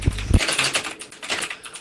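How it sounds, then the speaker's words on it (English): Fingers tap away on a computer keyboard in quick, uneven clicks, close and fairly loud, following two heavy low thumps at the start. "Stream can hear every key that you're typing"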